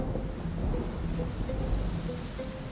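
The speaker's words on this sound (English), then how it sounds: "Rain starts to pour." Heavy rain pours steadily in a dense, loud wash, with low rolling thunder rumbling underneath throughout, used as a storm effect for a stormy sea scene.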